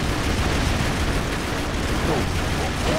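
Cannon fire launching men in the video game Broforce, a dense loud burst of explosive rumble and mechanical clatter filling the whole stretch, with voices talking over the game noise.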